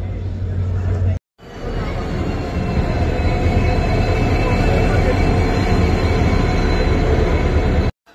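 A train rumbles loudly and steadily at a railway platform, a dense mechanical roar of rolling wagons that holds for several seconds. A brief gap comes near the start, with voices faint underneath.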